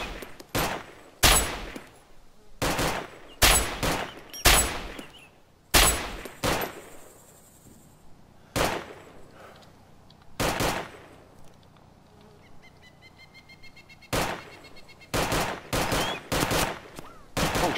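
Gunshots ring out in DayZ (Overpoch mod, Taviana map), sharp bursts and single cracks arriving in irregular clusters across the whole stretch, some loud and close, others fainter.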